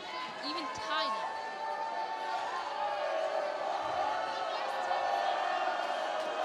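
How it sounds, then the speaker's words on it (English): Steady, loud crowd noise fills a high school boys' varsity basketball gym during a free throw, a dense continuous roar of voices sustained throughout with no pauses. "The crowd booing extremely loudly."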